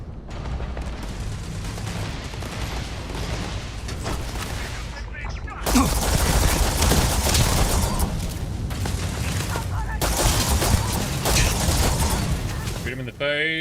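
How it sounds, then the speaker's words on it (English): Laser rifle fire in Starfield: quiet game ambience, then dense, loud rapid shots and impacts that break off once before resuming. "Alright, laser rifle."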